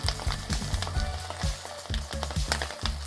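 An egg, ham and cheese sandwich toasts in a pan with an even sizzle, overlaid by a quick series of close, sharp crackles and pops at an irregular rhythm.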